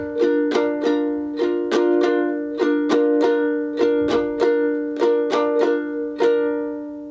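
Steady guitar strumming in a repeating rhythm of down and up strokes, about nineteen strums of the same chord, close and clear.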